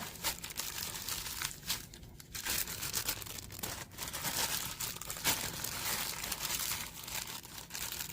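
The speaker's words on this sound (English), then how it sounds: "I'm just using a plastic bag so I don't get my hands dirty" A plastic bag crinkling continuously as smoked meat is mixed and pressed into a ball by hand, close and steady rustling and crackling with no talking.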